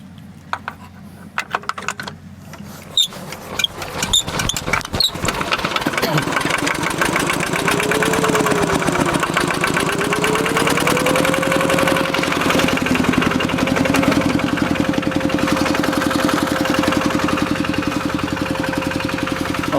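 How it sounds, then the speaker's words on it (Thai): An old Kubota engine used to pump water starts up after some clicking and handling noises, then settles into a loud, steady running chug that continues close by with no break. "ก็จะเป็นเครื่องคูเบต้าเก่าๆนะครับ บางทีอาจจะติดยากหน่อย แต่ก็ใช้งานได้ดีนะครับ"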